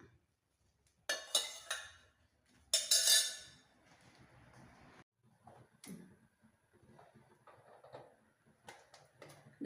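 Pots and vessels clinking and clattering while jackfruit erissery is moved into another vessel: a few sharp metallic knocks and scrapes in bursts, close and fairly quiet, with gaps of near silence between.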